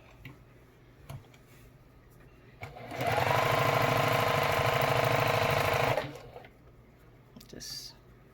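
A sewing machine stitches a seam through scrap quilt fabric in one loud steady run of about three seconds, with quiet handling noises before and after.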